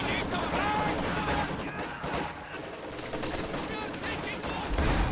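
An SU-76 fires an artillery barrage alongside gunfire in Company of Heroes 2, with dense overlapping shots and bursts in a busy battle din. A voice talks over parts of it.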